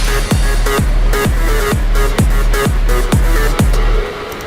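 Punchy electronic kick drum hits in the drop of an electronic dance track repeat in a steady, fast rhythm, each with a deep booming thump and sharp attack, loud and up front.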